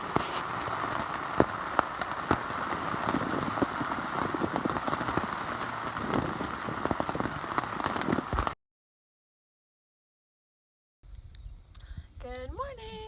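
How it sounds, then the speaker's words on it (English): Steady rain on the Appalachian Trail patters and hisses on a surface, then cuts to silence, followed by a quieter stretch with a voice. "the rain is here"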